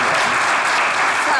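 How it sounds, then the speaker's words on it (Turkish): Audience applause at a Turkish comedy show fills the moment, a dense, steady wash of clapping close and loud throughout. "hepinizden bir alkış alalım bakalım."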